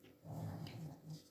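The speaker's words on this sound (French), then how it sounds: "J'ai la chienne qui ronfle." A female dog snores softly nearby, a low rumbling breath that rises and falls in two faint swells in a quiet room.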